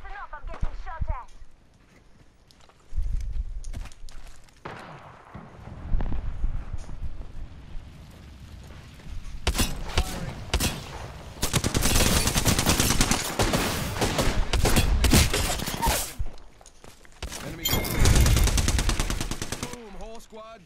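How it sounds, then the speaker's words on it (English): Rapid gunfire in the Apex Legends video game, with dense automatic bursts and repeated shots that come and go across the clip, loud and close, with game sounds mixed in and no speech. "Listen up, I'm getting shot at."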